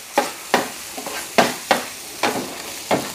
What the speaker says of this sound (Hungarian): Egy nagyon-nagyon picit szétküldöm a tojásokat, és egyszerűen picit mindig ráfordítva a forró alját készre fogom sütni.